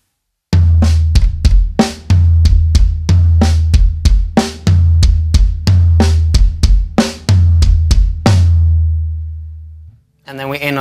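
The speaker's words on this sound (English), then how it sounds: "one of those patterns is just floor tom, snare, kick, kick, snare, floor tom, kick, kick" A drum kit plays a looped pattern of floor tom, snare and kick, with steady, rapid, close and loud hits in a repeating rhythm for several seconds before stopping.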